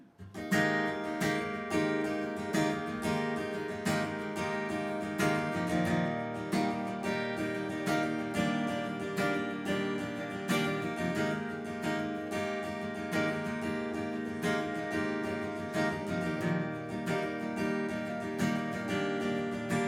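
Dense, steady music with sustained harmonic tones and a regular beat runs throughout, loud and continuous with no pauses.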